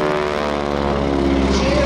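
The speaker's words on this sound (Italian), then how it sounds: "E godiamoci anche il rombo di questo motore" A biplane engine drones loud and steady overhead at an air show during a looping stunt, a continuous throbbing roar with a slowly shifting pitch.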